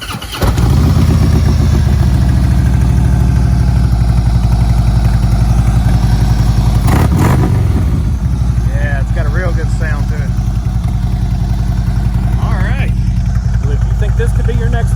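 A 2016 Harley-Davidson Ultra Limited motorcycle with almost 42,000 miles starts and settles into a steady, loud close-up idle, its low rumble continuous throughout while someone talks over it.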